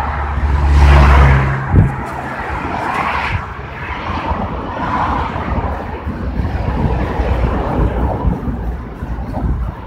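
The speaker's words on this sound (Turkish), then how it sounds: "Bir de yanımdan vızır vızır arabalar geçiyor yani." Cars rush past close by on a road bridge in Kayseri, heard from a bicycle, a steady loud traffic roar with a heavy low swell near the start, no talking.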